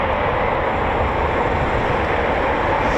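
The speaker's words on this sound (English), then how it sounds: "Is that an EJ200 engine?" Eurofighter Typhoon FGR4 with EJ200 jet engines at RAF Coningsby, a loud, steady broadband jet roar holding constant without breaks.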